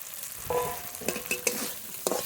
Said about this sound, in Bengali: ভেজে রাখা চিংড়ি মাছ মশলার উপরে দিয়ে দেবো